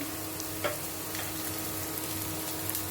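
Onions fry in a covered pan during a beef and vegetable stir fry, a steady soft sizzle with faint crackles and occasional small pops, close and continuous with no talking.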